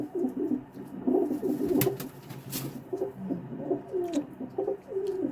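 A pigeon coos softly and repeatedly, low rolling calls close by, with a few brief sharp clicks in between.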